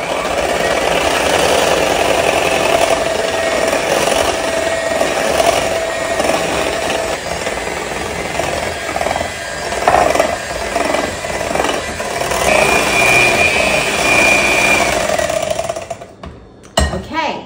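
A hand mixer runs on low speed while granulated sugar is slowly added for a Torta de Santiago, a loud steady motor whir with rough grinding texture that continues throughout and stops abruptly near the end.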